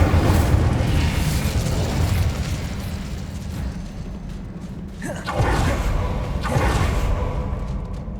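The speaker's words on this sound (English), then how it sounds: "Incendio." The Incendio fire spell from Hogwarts Legacy is cast twice, each time a loud whooshing burst that flares and fades into the game's ambient rumble, with no voices.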